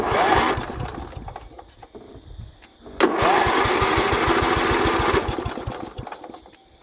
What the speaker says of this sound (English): I know this mower is a pretty cool unit of a mower here, so it probably will.